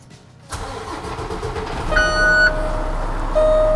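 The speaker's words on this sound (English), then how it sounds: "I'm going to safe start the vehicle" A truck engine cranks and catches with the clutch depressed in neutral, then settles into a rumbling idle with a faint whine, close by.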